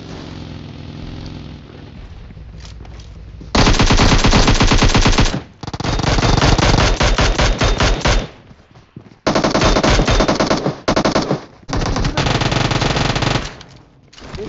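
Gunfire in the mobile battle royale game PUBG Mobile: several loud bursts of rapid automatic fire separated by short pauses, close and dominant, after a quieter stretch of game noise.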